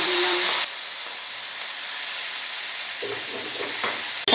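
Boiled chana dal is added to a hot pan with asafoetida and nigella seeds, sparking a loud burst of sizzling that drops quickly to a steady soft frying hiss, with faint stirring scrapes near the end.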